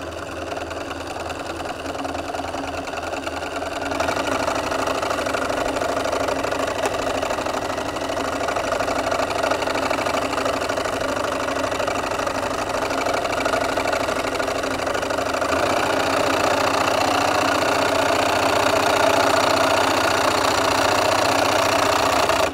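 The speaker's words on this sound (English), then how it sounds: "I'm literally just going to take it through the machine and let the machine do the work" A sewing machine hums continuously through free-motion quilting on an old quilt being turned into a messenger bag, its steady motor drone growing slightly louder after the first few seconds and running unbroken without speech.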